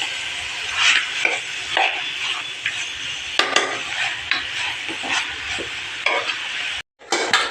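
Beef fry cooking in a pan with a little curry leaf, a steady close sizzle with scraping stir strokes and occasional clinks of a spoon on the pan, with no talking.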